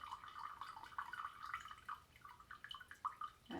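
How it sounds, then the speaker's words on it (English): Excess water poured off soaked microgreen seeds in a grow tray, a faint, close trickle of irregular drips and small splashes. "I'm pouring all the excess off there"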